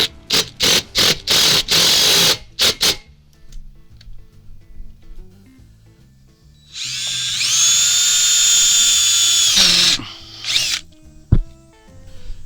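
A power drill drives bolts straight into a RecPro RV powered awning mount, giving a loud, steady whine of about three seconds. Sharp ratcheting clicks come before it and a few knocks follow, with no talk.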